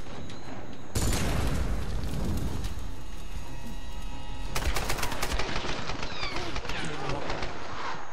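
A powerful cannon fires in a Tomb Raider match on Xbox Live, loud rapid bursts of gunfire and booms running almost continuously, with a sharp renewed volley midway.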